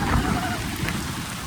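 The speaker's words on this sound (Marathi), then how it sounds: "पाऊस पण जोरात पडतो इकडं." Heavy rain pours steadily outdoors at a village gathering, a dense wash of noise with low rumbling, close and loud across the whole stretch.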